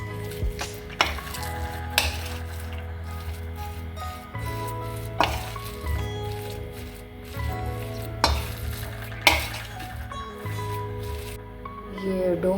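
Chopped onion is stirred into a chicken samosa filling in a pan, giving repeated scraping strokes and soft squishing over a low sizzle, close up, with steady tonal background sound under it.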